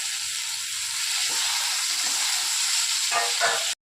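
Loud, steady sizzling of onions and tomatoes frying in a pan for Chettinad chicken gravy, with a few soft stirring scrapes near the end.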